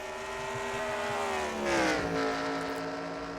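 Race car engines from the NR2003 racing game, the Band-Aid 02 car among them, drone steadily in a continuous mid-pitched whine. It swells briefly as a car closes in and passes, then settles back to a steady howl.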